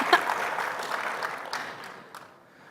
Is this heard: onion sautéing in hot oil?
no